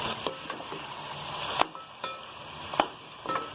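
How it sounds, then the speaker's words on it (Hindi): Meat and spices for nali nihari sizzle steadily in a pot while being stir-fried. A spoon scrapes and clinks against the metal in irregular strokes over the soft frying hiss. "और अच्छे से भुनाई कर लूँगी मैं"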